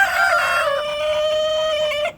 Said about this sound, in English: I got a few of you roosters.